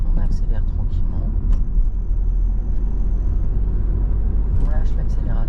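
Steady car engine under gentle acceleration during a learner driver's lesson, a continuous low rumble with road noise throughout, and an instructor's voice talking over it.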